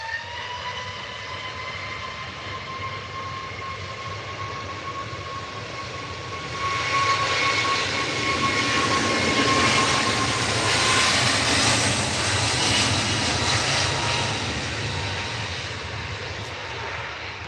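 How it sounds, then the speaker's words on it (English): An EasyJet Airbus A321neo (A321-251NX) jet takes off at Manchester Airport bound for Antalya: a steady distant engine whine swells into a loud, broad roar about midway through, then slowly eases as the aircraft climbs away. Nobody speaks. "The next one's the EasyJet off to Antalya. A321-251NX. This is a big one for an EasyJet."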